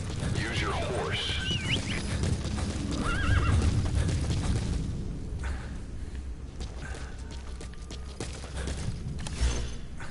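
A horse whinnies and neighs with clip-clopping hooves in the video game Metal Gear Solid V: The Phantom Pain, amid in-game ambience, with people talking over it.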